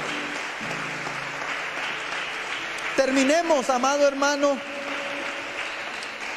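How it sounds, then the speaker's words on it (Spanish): A church congregation applauds as a steady, moderate background patter, while a voice speaks over it partway through. "Denle un aplauso al Señor por eso."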